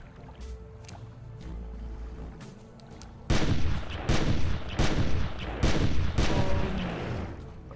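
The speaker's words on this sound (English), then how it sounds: "After expending most of my shotgun ammo, sheer force finally brings this guy down." Shotgun blasts in the Carnivores dinosaur-hunting game boom out during a Therizinosaurus hunt, several sharp, loud reports fired in quick succession after a quieter stretch of ambient game sound.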